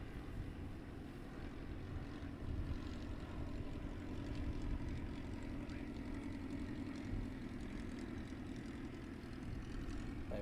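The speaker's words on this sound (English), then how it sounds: "you'll be able to listen to the engines as they start up." The jet engines of a Blackburn Buccaneer run up at Cotswold Airport, heard as a steady, broad roar with wind buffeting the microphone, constant and moderately loud throughout with no talking.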